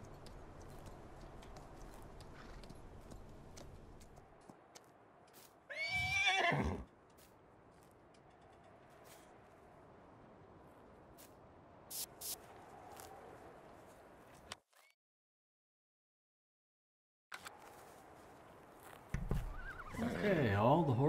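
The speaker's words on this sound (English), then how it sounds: "Horses have been exercised." Horses in Farming Simulator 19 on a PS4 farm let out two loud whinnies, one mid-clip and one near the end, over a low steady game background with brief clicks, while a person talks throughout.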